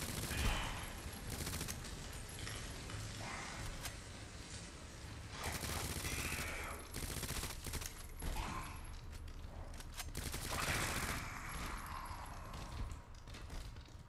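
Rapid submachine gun fire in Resident Evil 2, loud, dense bursts running almost continuously across the whole stretch with brief lulls between volleys, layered with game effects and clatter.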